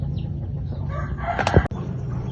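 A rooster crows once, a short rising and falling call over a steady low farmyard hum, then the sound cuts off abruptly.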